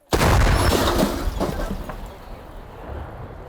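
A single loud, heavy artillery gun shot booms out at once near Bakhmut, then a long rumbling decay fades into the background.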